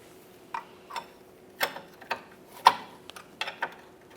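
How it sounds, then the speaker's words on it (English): Ratchet clicks in short uneven bursts while working an 18mm headed bolt loose on the rear forward lower control arm of a 2012-2018 Nissan Altima, close and fairly quiet, with no talking. "We're going to remove this 18mm headed bolt and mounting nut as well"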